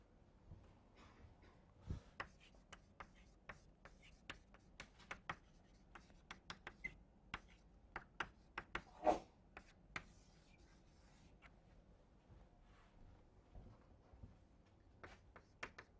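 Chalk or pen strokes write equations for fin heat transfer during a lecture, a quiet, irregular run of short scratchy taps and rubs that cluster and pause, close and faint with no talking.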